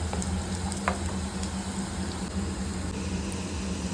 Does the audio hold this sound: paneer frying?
yes